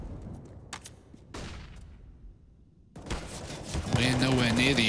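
Bursts of rifle fire from a professional Counter-Strike esports match, sharp cracks in quick clusters at the start and again near the end, mixed with game effects and a caster talking over the action.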